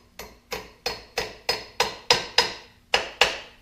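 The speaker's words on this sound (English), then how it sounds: "give it a little tender love with this here little hammer" A small hand hammer taps a tight-fitting part onto the propshaft of a Kubota L3600 tractor during repair, giving nine evenly spaced, sharp metallic knocks that each ring briefly, heard close up and alone.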